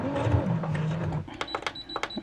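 A Brother XR9550 sewing machine runs a straight stitch in a steady mechanical whir for about a second, then stops and gives way to a few sharp clicks and knocks as it is adjusted.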